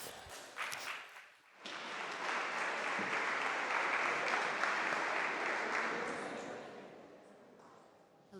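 A conference audience gives a session moderator sustained applause, which swells after a few scattered claps and holds steady before tapering off.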